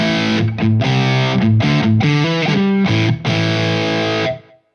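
Electric guitar played through a Boss Waza DS-1w distortion pedal, loud and sustained, with a run of distorted notes and chords that rings out alone and then cuts off.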